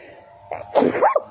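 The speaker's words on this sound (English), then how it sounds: "I feel a sneeze coming on." One close, fairly loud human sneeze with a short sharp burst and a quick trailing release, heard outdoors in a garden.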